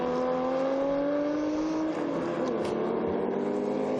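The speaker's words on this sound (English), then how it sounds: "the Chevrolet doing what Chevrolets do, sounding lovely as he puts the power down" A Chevrolet historic race car at the Estoril Classics 2021 circuit accelerates hard, its engine note rising steadily and loud before shifting pitch midway, with a continuous roar throughout.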